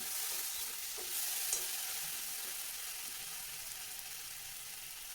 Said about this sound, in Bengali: সবটাকে দিয়ে ভালোভাবে মশলাটাকে কষিয়ে নেব